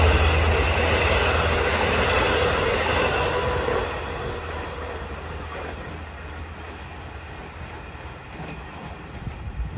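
A Long Island Rail Road train rolls through Elmont station during the evening rush, a loud steady rumble with rail clatter that gradually fades as it moves away.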